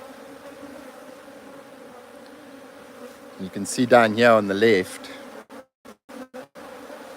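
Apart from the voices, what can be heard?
bees swarming in a hive box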